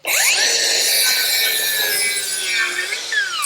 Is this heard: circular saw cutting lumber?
yes